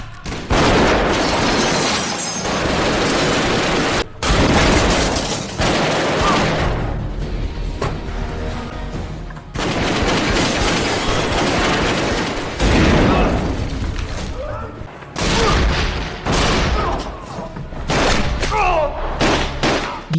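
Dense, continuous gunfire and crashing impacts fill a film shootout as a gang's headquarters is stormed, a loud, busy barrage with brief gaps and no clear talk.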